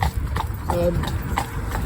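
Hooves of a cob horse, about 15-1 to 15-2 hands, clip-clop in a steady walking rhythm, close and clear, under a voice talking over them.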